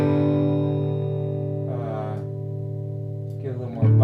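A sustained electric guitar chord rings through an amp with reverb added, a steady layered tone that slowly decays while brief bursts of talking break in over it.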